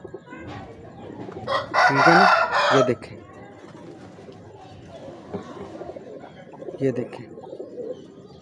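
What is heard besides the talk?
Imamdeen breed pigeons cooing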